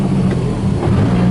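A freshly rebuilt Sonvia car engine runs just after start-up, a loud, close, steady idle with a deep humming drone and no clear rise in revs.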